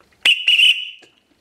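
A handmade copper pea whistle gives one short shrill blast with a rolling warble, sharp onset and quick fade, alone in silence.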